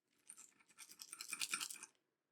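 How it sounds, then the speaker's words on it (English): A rattle from inside the packaging of a Winwing F/A-18 HOTAS flight controller: a close, dry scratchy clatter of loose bits shaking for about two seconds, swelling and fading with no voices. "There's a rattle there."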